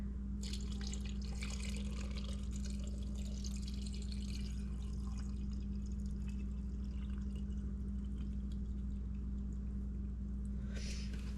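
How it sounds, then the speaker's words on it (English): Filtered water is poured steadily into a pickle jar holding alum, a continuous close splashing trickle over a low steady hum, with no voices. "I'm filling the rest of the way with my filtered water."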